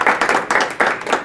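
Audience applause during a roundtable gathering, a short burst of steady clapping from several pairs of hands with rhythmic swells, fairly close and continuous.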